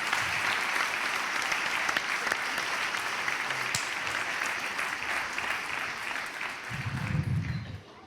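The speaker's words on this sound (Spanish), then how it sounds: "Un aplauso para él." Sustained audience applause for a performer at a live comedy monologue show, steady dense clapping throughout with a low vocal murmur swelling near the end.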